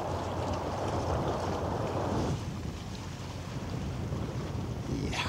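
Heavy wind buffets a microphone aboard a boat near large cruise and container ships, a loud rumbling roar that eases partway through, then lingers as lighter gusty noise, with no voices.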